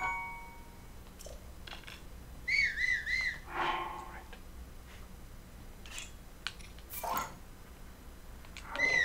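Whistled melody in Zelda: Breath of the Wild, a short tune of a few wavering high notes played once, with faint game sounds and clicks around it.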